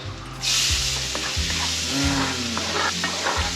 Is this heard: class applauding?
no